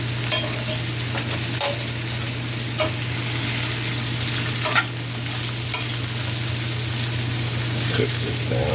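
Salisbury steak sizzles steadily as it cooks down in a pan, with a constant frying hiss under repeated scraping stirs and occasional utensil knocks, all close by.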